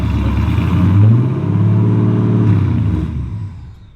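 A cammed Infiniti G35 running a high, lumpy idle, loud and close, with a deep uneven rumble that swells slightly and then fades toward the end.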